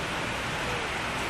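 Heavy rain pours down hard during the Typhoon Ondoy flood in Angono, a dense, continuous hiss that stays loud and steady throughout, with no voices.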